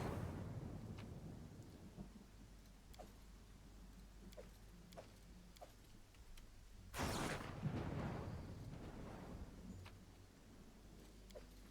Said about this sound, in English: This storm is so annoying.